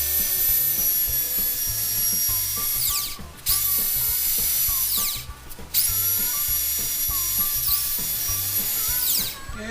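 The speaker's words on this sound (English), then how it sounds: "Now we're going to finish sand it, smooth it out a little bit here." A power sander works a wooden bookcase piece smooth, a steady high whine running nearly the whole time with two brief pauses where it stops and restarts, close and fairly loud.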